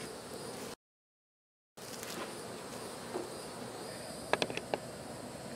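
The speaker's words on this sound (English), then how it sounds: "There's lots of bees in there." Bees buzzing inside an open beehive, a continuous close drone with a brief dropout, later joined by a few sharp clicks and taps, no voices.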